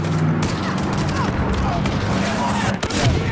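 A continuous rumble of gunfire and explosions in the Call of Duty: Modern Warfare campaign, dense and steady throughout, close and loud, with a faint voice underneath.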